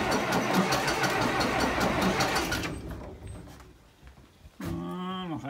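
A farm tractor engine running on a cold start: loud, rough rapid chugging that cuts out and sputters quietly, then a brief higher-pitched whine as it turns over again; no voices.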